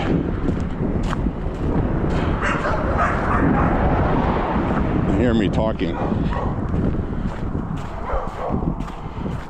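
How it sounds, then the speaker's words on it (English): Several neighborhood dogs bark and yip at a distance outdoors on a breezy walk, their calls scattered and partly masked by wind noise and someone talking over them. "every dog in the neighborhood has been activated"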